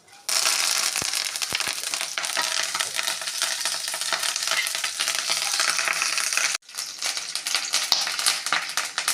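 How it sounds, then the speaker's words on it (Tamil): Mustard seeds and curry leaves fry in hot oil with loud, continuous sizzling and crackling and sharp pops, steady for several seconds, briefly cutting out before resuming. "வாணலியை அடுப்பில் வைத்து எண்ணெய் ஊற்றி கடுகு போட்டு கறிவேப்பிலை போட்டு தாளிக்கவும்"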